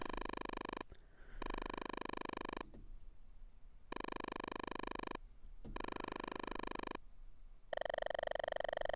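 Harsh electronic tones sound in bursts separated by brief gaps, like synthesized telephone dialing in the game Maniac Mansion, buzzy and steady, with no voices.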